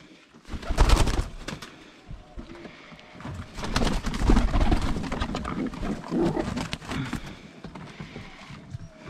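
Wood pigeons coo in low, throaty bursts, several birds close by at a hunting hide, with soft rustling and fluttering between the calls.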